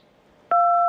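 A single short telephone dialing tone sounds loud and clean during a radio call-in, standing alone against a near-silent background.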